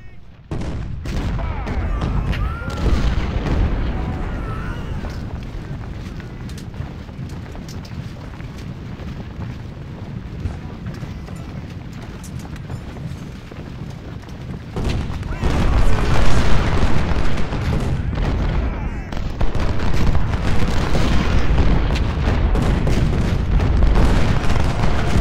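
Cannon artillery fire rumbles through a Civil War battle in the video game Ultimate General: Civil War, a dense continuous roll of booms and distant gunfire that swells louder in the second half.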